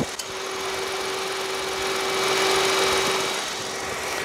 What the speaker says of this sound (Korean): 총평에 앞서서 엔진을 한번 열었는데 바로 엔진 소리 한번 들려드릴게요